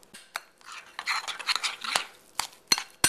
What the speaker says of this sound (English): we're going to go ahead and mix that up